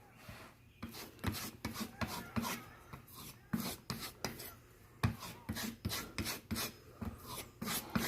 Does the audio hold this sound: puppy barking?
no